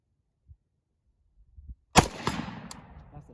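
A single sharp FN FS2000 rifle shot fired toward a 175-yard target, loud and close, with a short rolling echo after it and a few faint knocks before it.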